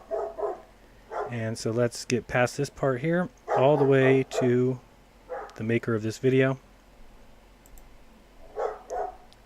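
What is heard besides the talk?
dog barking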